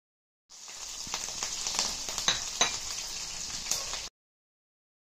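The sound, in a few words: green chillies frying in a pan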